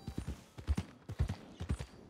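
Horse hooves clip-clop at a steady walking pace while a rider travels in the video game Red Dead Redemption 2, in a clear rhythmic pattern of paired thuds, close and moderately quiet.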